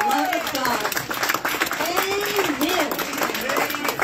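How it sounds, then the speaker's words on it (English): Enthusiastic clapping and cheering from a church congregation at a Father's Day praise and worship service, sustained and dense, with voices calling out over it. "Great big round of applause to all the Sunday school teachers"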